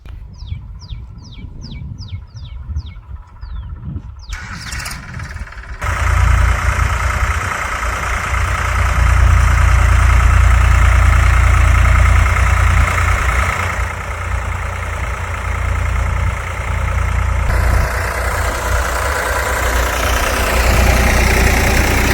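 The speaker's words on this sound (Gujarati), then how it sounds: "સીધું ટ્રેક્ટર ઉપર ચાલુ કરી લઉં" A tractor engine turns over and catches, then settles into a loud, steady low idle that runs on continuously; faint bird chirps are heard before it starts.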